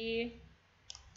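A Ctrl+B shortcut pressed on a computer keyboard while formatting a document gives a quick double click near the end, after a voice fades out at the start.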